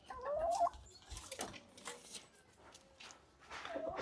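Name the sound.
hen clucking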